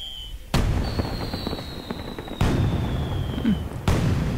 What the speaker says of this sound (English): fireworks are always cool